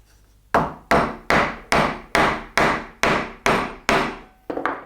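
Chisel struck repeatedly with a mallet to chop waste out of a wooden mortise: nine sharp, evenly spaced woody knocks, close and loud, each ringing briefly, then a softer scraping lever at the end.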